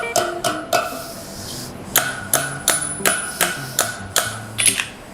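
Hammer blows ring out on steel over an anvil in a blacksmith's forge, about a dozen sharp metallic strikes in a steady rhythm, loud and close with bright ringing tails.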